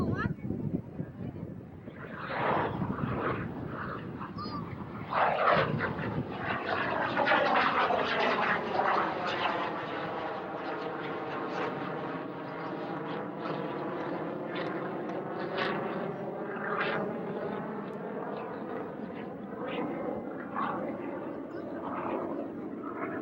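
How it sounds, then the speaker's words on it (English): A military airplane passes overhead at a 1991 air show at Barnes Air National Guard Base, its droning engine tone sweeping down in pitch as it approaches and recedes, loud and sustained, with a voice faintly mixed in. "Airplane."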